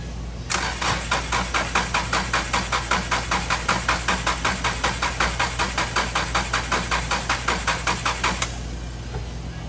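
A Subaru engine cranks with a steady rhythmic starter chug for about eight seconds, loud and close, then cuts off without catching.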